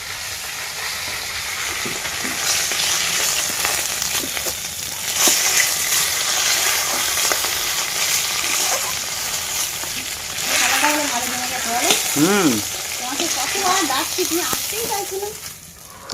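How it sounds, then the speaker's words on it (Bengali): Snakehead fish fries in oil in a pan in a rural Sundarbans home kitchen, giving a loud, steady sizzle close by, with stirring and a brief voice murmur partway through. "আমাদের মাছ ভাজা হয়ে গেছে"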